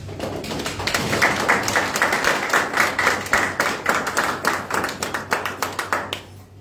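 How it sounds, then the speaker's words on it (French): Rapid rhythmic clapping from a crowd at a press conference, a steady burst of applause that stays loud for several seconds before breaking into a few separate, slowing claps and fading out. "ce n'est pas les journalistes qui applaudissent"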